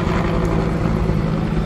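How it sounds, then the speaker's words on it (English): A military helicopter passes low overhead near an air base, a steady, loud rotor and engine rumble that holds through the whole stretch with no talk. "That is a military helicopter going over because we're close to the air base."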